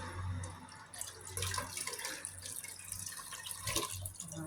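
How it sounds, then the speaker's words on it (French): Hot water poured into a pot of shorba as it cooks, a steady close liquid splash and trickle running throughout over a low background hum, with no talking. "on va rajouter encore une cuillère de théière d'eau chaude"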